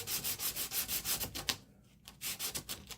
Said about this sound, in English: I had to take the saddle down just a little bit, just sand it off there